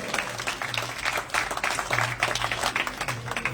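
An audience at an outdoor political rally for a local legislator claps in quick, fairly faint, ragged applause that carries on steadily for a few seconds.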